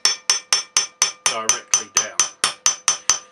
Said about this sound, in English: Now notice the sound that the hammer makes